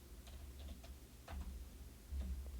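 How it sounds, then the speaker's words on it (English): Light, sparse clicks of typing on a computer keyboard, close but faint over a low background hum, with no voices. "I can't even type."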